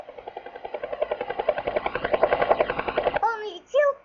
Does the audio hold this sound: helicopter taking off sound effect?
yes